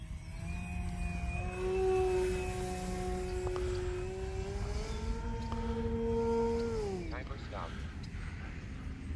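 Tower Hobbies Sbach RC aerobatic plane engine droning as it pulls into a power climb, a steady tone rising then sweeping in pitch as the model passes, moderately distant, with talk over it.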